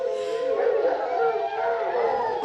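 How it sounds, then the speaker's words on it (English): Hounds howl together in a long, wavering chorus, close and loud, as a sound effect in the TV comedy Dad's Army. "That's no ordinary dog."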